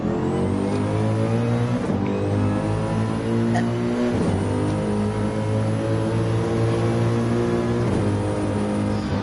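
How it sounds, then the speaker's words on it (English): Audi R8 race car in a racing video game braking into a tight left-hander, the engine blipping loudly through repeated downshifts from sixth to first gear, with rising and falling revs throughout. "coming up to this tight left-hander, all the way down from 6th to 1st gear"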